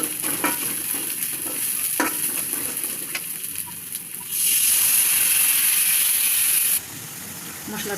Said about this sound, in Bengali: মশলাটা এবার ভাজা হয়ে গেছে।